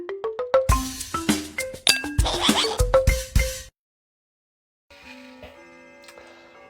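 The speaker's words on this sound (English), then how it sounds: "By the sounds of the chimes, it means it's cocktail time" A chiming clock strikes a quick run of bright, ringing bell tones, each note decaying into the next; after a pause, a quieter, sustained ringing resonance lingers.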